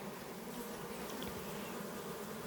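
Honey bees buzz in a dense, continuous drone around hives during honey extraction, close and steady with no voices.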